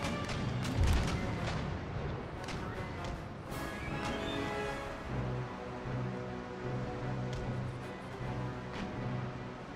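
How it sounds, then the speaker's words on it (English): Naval ship cannons fire in a sea battle in Empire Total War: a dense run of booming shots near the start, then scattered distant blasts over rolling ocean ambience. "Keep my ships firing at will."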